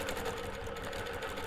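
Longarm quilting machine stitching along a ruler as it is pushed by its handlebar, a steady, fast mechanical whir with dense needle chatter, close and continuous throughout.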